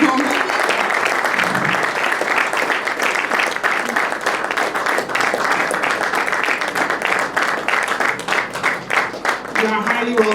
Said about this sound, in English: Please let's keep clapping as we come.